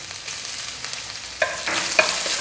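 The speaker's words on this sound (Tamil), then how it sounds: "ரொம்ப லைட்டாக வதக்குங்க." Crushed garlic, ginger shavings and ground cinnamon sautéing lightly in a pan, a soft steady sizzle with a few sharp stirring scrapes near the end, no talk.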